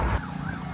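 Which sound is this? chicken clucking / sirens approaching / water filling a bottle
sirens approaching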